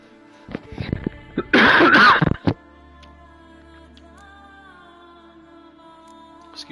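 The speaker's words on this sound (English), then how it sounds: "Excuse me for the cough, and I apologize about that." A person coughs in a short harsh burst of a few loud hacks close to the microphone, preceded by some small clicks and followed by quiet background game music with a steady hum.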